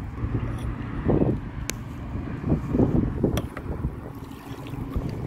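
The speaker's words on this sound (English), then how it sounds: "It's getting kind of windy" Gusty wind buffets the microphone in low, uneven rumbles, rising and falling across several seconds outdoors.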